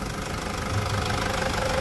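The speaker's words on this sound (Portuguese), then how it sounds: "Vamos aquecer o motor aqui. Olha que melodia nessa caminhonete." Toyota Hilux 3.0 pickup engine idling while warming up, a steady close rumbling idle with a faint rhythmic knock and even low drone throughout, no voices.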